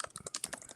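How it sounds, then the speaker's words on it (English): Quick typing on a computer keyboard, a rapid burst of light plastic key clicks in an irregular rhythm, faint and close, heard alone with no voices over it. "I hear him typing."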